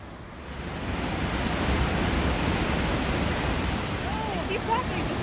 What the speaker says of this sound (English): It's not the biggest or even the prettiest waterfall in the park